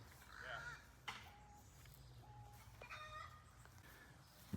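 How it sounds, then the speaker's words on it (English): Chickens clucking at a distance outdoors on a rural property, with short scattered calls over a quiet background and brief voices nearby. "Someone else get chickens over there?"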